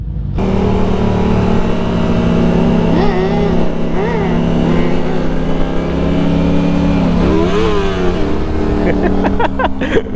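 A motorcycle engine drones steadily and loudly throughout, with pitch rising and falling in several revving bursts; faint voices occasionally sound beneath it.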